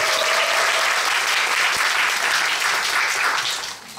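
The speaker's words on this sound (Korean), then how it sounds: "네, 매진 박수." Audience applause at a sold-out musical talk-back event for 'Gwangyeom Sonata', dense steady clapping filling the room for about four seconds before tapering off at the end.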